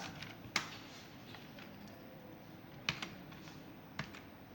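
Code being typed on a computer keyboard, a few sharp, faint, isolated key clicks spaced apart over quiet room tone.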